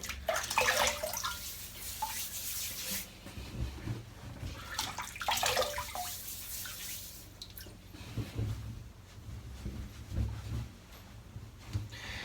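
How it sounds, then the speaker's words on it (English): Water splashing as a head is wetted before a shave, irregular close bursts of splashing and running water with drips, no talking. "So, let's wet the head."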